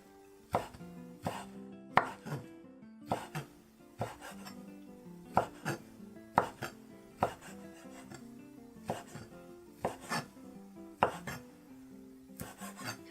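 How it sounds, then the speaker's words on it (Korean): A knife julienning ham and cucumber into thin strips on a cutting board gives quiet, fairly regular chopping taps, about one every second, heard alone with no talk. "채 썰어 주세요."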